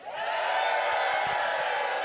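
A loud, sustained crowd cheer at the World Oyster Opening Championships festival in Galway, with a dense roar of many voices and whoops that swells in quickly and holds steady to the end.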